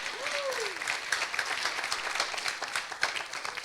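A church congregation applauding steadily, a dense wash of clapping throughout, moderately loud, with a brief voice near the start.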